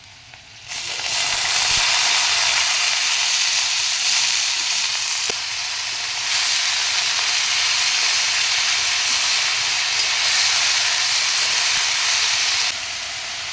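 Drained banana flower tipped into a hot pan of oil, setting off a sudden loud sizzle that stays dense and close for over ten seconds, swelling slightly midway before easing near the end.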